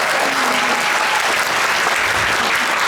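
Dense, steady applause from a convention audience fills the whole moment at close range, a continuous wash of many hands clapping with a brief voice murmuring underneath.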